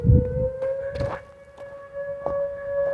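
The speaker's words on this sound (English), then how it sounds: "I don't know if y'all can hear that, but that's a tornado siren." A steady, wailing tornado siren holds a long tone in the background, with brief rustling and footstep-like noises over it outdoors.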